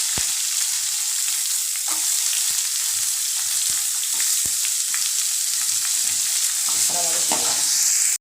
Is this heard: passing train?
no